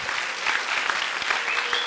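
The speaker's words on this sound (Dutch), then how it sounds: "Geef hem een applaus, Paul Snijder." An audience at a Dutch political party gathering applauds a European Parliament candidate, a steady, dense wash of clapping from many hands that continues throughout.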